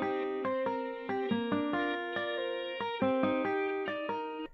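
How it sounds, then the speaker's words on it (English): A plucked electric-style guitar melody run through an effects plugin in FL Studio, each note ringing out with chorus and distortion-like shimmer, about a dozen notes in an uneven phrase, heard alone. "Let me check out the guitar effects."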